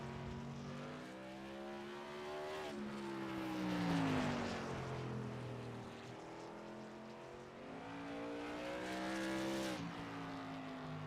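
A tour modified race car runs a qualifying lap at Langley Speedway, its engine droning steadily with rising and falling pitch. The sound swells as the car nears and fades as it pulls away, and it continues without a break.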